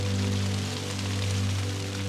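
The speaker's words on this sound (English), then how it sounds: "there's another thunderstorm and it's hailing and snowing again" Hail and rain in a mountain thunderstorm make a loud, constant rattling hiss, with a steady low hum running beneath it and no talking.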